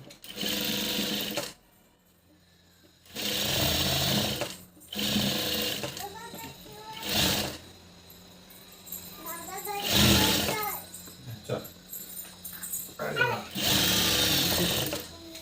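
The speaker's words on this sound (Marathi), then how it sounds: "आता आपण इथं शिवताना मात्र खालून सुरुवात करायची" An electric sewing machine stitches a puff sleeve in loud, close bursts of a second or two. Quieter gaps separate the runs, with some background sound and faint voices in between.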